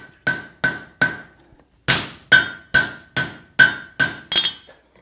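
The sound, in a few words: hammer blows setting a forge weld on a hoe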